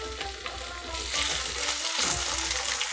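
Tomato pieces sauté in a pan for a Bengali duck egg kosha, sizzling steadily up close, with stirring scrapes that grow a little louder partway through and no talk.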